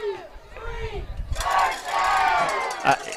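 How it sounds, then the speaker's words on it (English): At a high school football playoff game, a crowd shouts and cheers in rising waves, loud and fairly close, while voices call out over the noise. "He leads the crowd in cheering."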